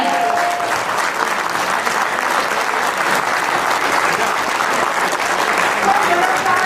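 Dense, sustained applause from a large crowd at a Yesworld token launch event on stage in Jaipur, steady and loud throughout with a few faint voices beneath.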